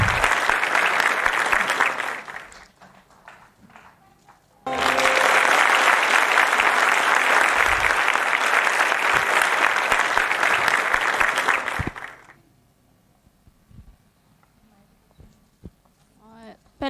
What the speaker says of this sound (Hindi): ज़ोरदार तालियाँ बजाइए उषा मैम के लिए